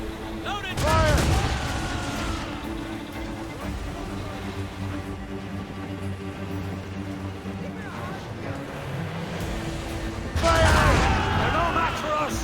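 Ship cannons fire in Assassin's Creed Rogue during a naval battle, with two loud booming volleys near the start and end. Shouted crew orders and music carry on between the blasts.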